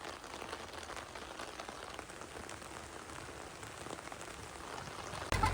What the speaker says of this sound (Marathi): परशुराम घाटाच्या पायथ्याला असणारा मुंबई गोवा महामार्गावरील हा सवत्सडा धबधबा चालू झालेला आहे